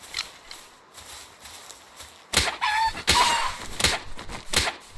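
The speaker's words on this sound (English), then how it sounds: "I also don't want these chickens" Chickens clucking in the Palworld video game, a few short bursts rising after a quieter stretch, fairly close and clear with faint background ambience.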